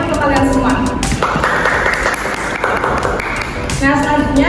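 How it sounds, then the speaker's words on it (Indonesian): A classroom of students gives loud applause for the groups that presented, a dense burst of many hands clapping that runs between stretches of a nearby voice speaking. "Beri tepuk tangannya untuk kalian semua."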